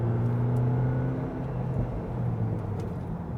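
A VW Mk8 GTI pulls forward under light throttle, the engine and muted exhaust giving a steady low drone heard from inside the car with road rumble beneath and no talking.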